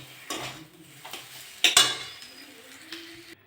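A pan of spiced filling for kakrol (pointed gourd) chops is lifted off a stovetop, giving a few close metallic clanks and scrapes with one sharper clatter in the middle, then quiet.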